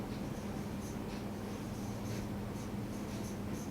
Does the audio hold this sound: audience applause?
no